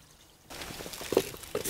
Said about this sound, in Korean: 졸졸 흐르는 샘물을 집까지 끌어다 쓰다 보니